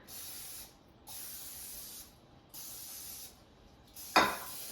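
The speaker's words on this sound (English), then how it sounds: "I'm going to spray it with a non-stick cooking spray" Non-stick cooking spray hisses onto a baking dish in three separate bursts of about a second each, close up, followed by a short knock as the can or dish is set down.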